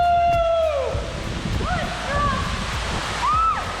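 Steady, broad rushing of a waterfall in Bali fills the background while a few gliding, whistle-like calls rise and fall over it.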